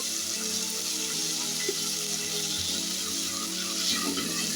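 Tomatoes sizzle steadily with salt in a hot pan, a close, continuous crackling fry with a few faint stirring clinks and no break in the hiss.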